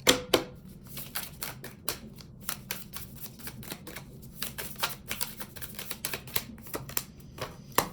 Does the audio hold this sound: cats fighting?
no